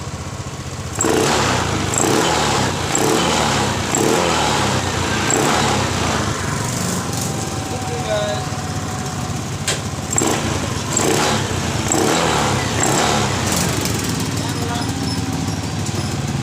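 A Honda Beat scooter with a crankshaft position sensor fault showing error code 52 runs close by with a buzzy single-cylinder idle and repeated throttle blips, while someone talks over it.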